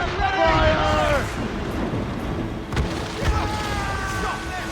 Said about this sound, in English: Incoming ship of war cannon! Fire!